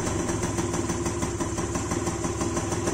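A scooter engine running just after being kick-started with a newly replaced spark plug, a steady, close, buzzing idle with a fast rhythmic pulse, loud and continuous throughout.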